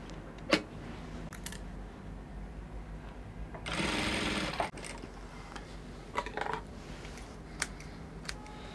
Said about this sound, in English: So I'm done stitching it.